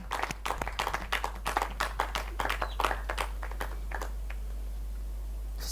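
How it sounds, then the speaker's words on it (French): A church congregation claps for the Lord in a quick, rhythmic run of hand claps, close and clear, that slows and fades out after a few seconds. "Tobeteli nkolo maboko"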